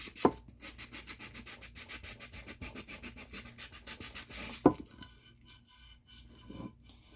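Steady rhythmic rubbing and rasping of sandpaper on the hard epoxy-coated surface of a glitter tumbler, with two sharp knocks near the start and middle.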